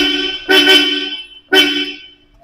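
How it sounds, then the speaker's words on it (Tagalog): Two short, loud blasts from the horn of a Toyota Hilux Tamaraw, each about a second long and close by, separated by a brief pause. "Check natin yung busina ha."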